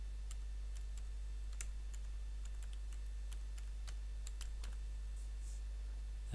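Scattered, light key clicks come from a computer keyboard as a new email address is typed, with irregular taps over a steady low hum and no voices.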